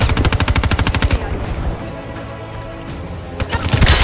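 Automatic gunfire in Black Ops 3 rattles loud and close in a fast rhythmic burst, breaks off into quieter clatter, then resumes with another short burst at the end.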